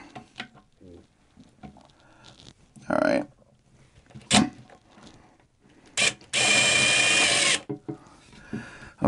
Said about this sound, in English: if you're going to use a power tool, make sure it's like on the lowest setting or just barely pull the trigger